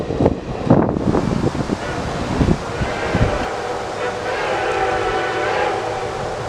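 Reading and Northern steam locomotive No. 2102 hauling a fall foliage passenger excursion toward Port Clinton, a loud rumbling, chuffing train passing close with whooshing wind-like noise and a steady roar.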